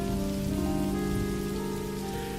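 Rain drums steadily on a car while driving, a constant close hiss with a faint tonal hum running underneath. No one speaks.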